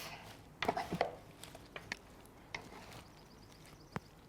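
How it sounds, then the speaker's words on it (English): Orange salad leaves being tossed with dressing in a kitchen, giving a cluster of soft rustling and clicking contacts followed by a few scattered taps, fairly close and quiet. "we're going to toss it, trying to get an even mixture on every leaf"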